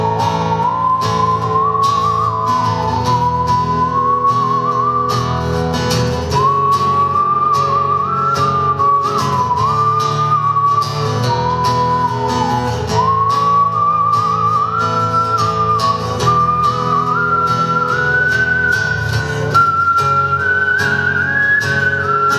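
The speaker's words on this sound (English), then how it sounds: "he's a great world-class whistler" A world-class whistler performs a melodic tune on stage at a live club show, a loud, clear, sustained whistle gliding through rising and falling phrases over band accompaniment.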